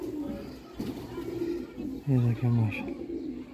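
Pigeons coo close by in a bout of two or three deep, throbbing calls in a loft of Lahori flying pigeons, with someone talking over and around them.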